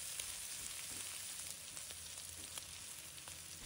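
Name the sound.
stir-frying pork belly with scallion, garlic, mushrooms and squid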